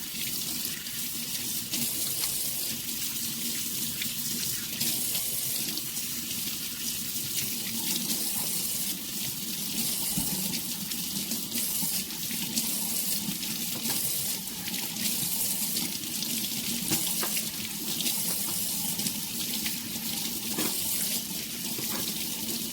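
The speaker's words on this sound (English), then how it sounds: "Now I'm going to give it another rinse." Raw chicken pieces being rinsed in a sink under a running tap: a constant, close rush of water with slight splashing and shifts as the pieces are handled, continuing steadily without speech.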